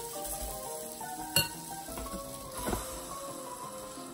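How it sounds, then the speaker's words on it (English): Keto protein waffle batter sizzles in a hot waffle iron. A faint, steady crackle is heard up close, with a couple of sharper pops and light clatter from the iron. "Ooh, that sizzle."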